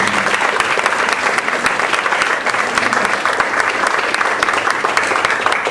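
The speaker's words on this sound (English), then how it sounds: "let's give Ross one more big round of applause" Audience applause for the speaker Ross at the close of a talk, a dense, steady wash of many hands clapping at full volume for the whole stretch, with no pause.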